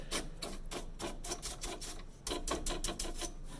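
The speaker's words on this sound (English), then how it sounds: "I'm really going to give it a good scrub up and down" A small stiff brush scrubs rapidly back and forth inside an Emblaser 2 laser cutter during servicing, a dry rasping rub in quick rhythmic strokes, close and fairly loud, with no voices.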